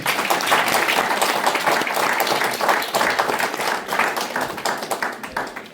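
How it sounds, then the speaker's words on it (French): Audience applause fills a hall in a dense, even burst of many hands clapping, loud and close, sustained for several seconds before thinning slightly toward the end. "Est-ce qu'on peut les acclamer très bien?"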